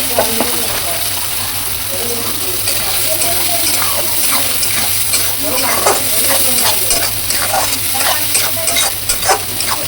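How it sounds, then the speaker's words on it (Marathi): Ground raw spice paste frying and being stirred in a hot pan, a loud continuous sizzle broken by repeated scraping and stirring strokes close by, with voices in the background. "आपला मसाला जो आता आपण वाटून घेतलेला आहे तो त्याच्यामध्ये मस्त फ्राय करायचा"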